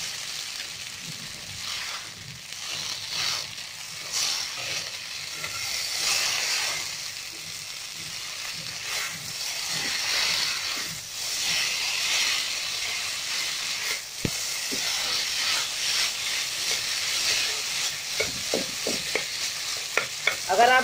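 Egg noodle ingredients stir-fried in a hot pan with a ladle, a steady sizzle and hiss running throughout, scraped and tossed in close, irregular strokes with sharper metal clinks near the end.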